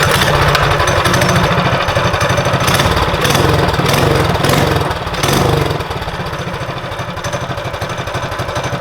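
Trailmaster MB200 mini bike with its small single-cylinder engine running, a loud, rapid chattering putter close by that surges and dips in revs before settling into a steadier idle.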